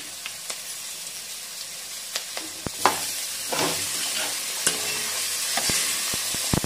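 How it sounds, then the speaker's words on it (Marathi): Half-cooked vegetables sautéed with a pinch of salt in a pan over medium gas, a steady close sizzle with scattered sharp scrapes and clinks of a spatula stirring against the pan. "आपण त्यात आता थोडेसे मीठ टाकू आणि पुन्हा त्याला मीडियम गॅसवरती छान परतून घेऊ"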